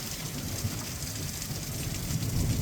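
Heavy rain from a thunderstorm pours steadily in a dense, hissing roar with a low rumbling undertone, constant and close by.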